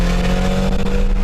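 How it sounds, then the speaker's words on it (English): A turbocharged Eagle Talon TSi AWD engine revving hard with a deep, rumbling roar, steady and close throughout, rough raspy texture over the low drone. "it definitely makes tuner car noises, that's for sure."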